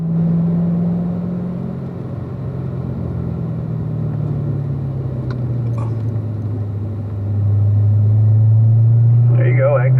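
A car threads through a cone course, its engine droning steadily near and loud, then rising in pitch as it powers out of a turn, while a voice talks over the run.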